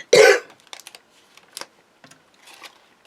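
One loud, close single cough bursts out at the start, followed by quiet scattered clicks and rustles of paper crafting at a desk.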